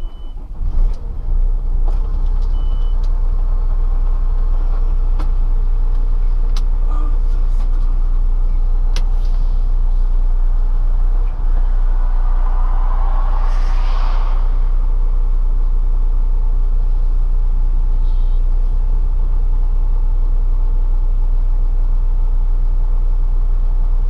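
A container truck pulls away after the road toll is paid, its engine a steady loud drone throughout, with a brief higher rising swell midway as it gets moving.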